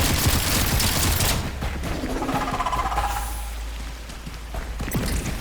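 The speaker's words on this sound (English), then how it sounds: "you've got to shoot them in the air to collect" Dense bursts of gunfire from the PSVR2 video game Into Black, loud and continuous with rapid overlapping shots, heaviest at the start and easing slightly before picking up again.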